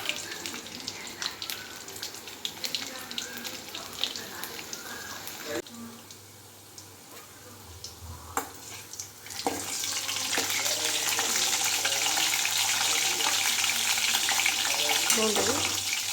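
Cumin, fenugreek and garlic frying in a pan for a mango tamarind curry: a steady hiss and crackle that swells louder partway through as more goes in, under a person talking.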